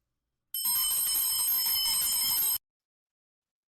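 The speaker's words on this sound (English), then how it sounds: "Let me just ring my bell here" A small hand bell rung in a quiet room, a bright metallic ringing trill lasting about two seconds, then stopping abruptly into silence.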